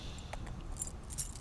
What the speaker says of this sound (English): it is always fun to go through a big pile of keys.